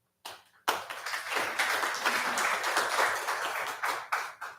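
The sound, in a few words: audience applause at a city council meeting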